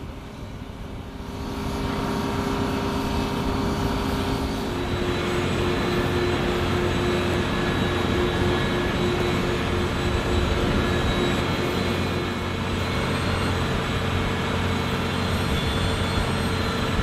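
A huge, unusual cargo airplane with a hold over 30 metres high gives off a steady, loud jet-engine roar that holds constant throughout after a brief quieter start, with no voices.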